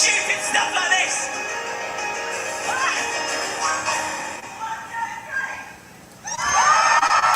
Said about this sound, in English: you get a roaring round of applause